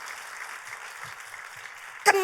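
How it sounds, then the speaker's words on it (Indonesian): A church congregation applauds for God during a sermon by Pastor Jonatan Setiawan, a steady wash of clapping from a large room that swells into a sharp, louder burst near the end. "Tepuk tangannya pula yang paling meriah buat Tuhan kita"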